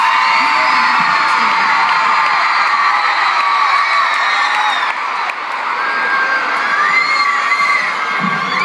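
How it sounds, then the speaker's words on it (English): A packed concert crowd in Sydney, Australia, at a tour show screams and cheers continuously, a loud, sustained wall of high-pitched shrieks and whoops with barely a dip. "These people are the loudest, danciest, and bounciest crowds."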